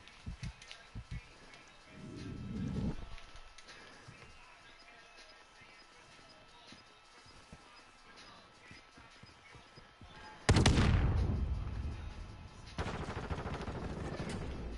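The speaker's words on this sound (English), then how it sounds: "that bomb went off so fucking fast" A bomb detonating in Call of Duty: Modern Warfare 2 Search and Destroy: a sudden loud, deep blast that rumbles and fades over a couple of seconds, preceded by quieter game noise, muffled thuds and occasional talk.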